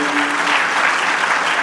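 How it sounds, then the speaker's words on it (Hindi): Applause from the audience welcoming the chief guest at a felicitation ceremony and birthday celebration at Super 35 Career Institute in Rewa: a steady, dense wash of clapping that fills the whole moment at an even, loud level. "तो एक बार आप लोग भी मेरे साथ मुख्य अतिथि का स्वागत तालियों से आप लोग करिए मेरे लिए"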